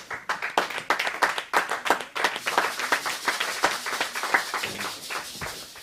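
A church congregation at a Christmas celebration claps in acclamation, with brisk, uneven hand claps from many people close by, dense at first and then settling into a steadier pattern, with no talk over it.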